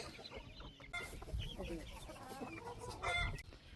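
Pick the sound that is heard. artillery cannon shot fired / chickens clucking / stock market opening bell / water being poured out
chickens clucking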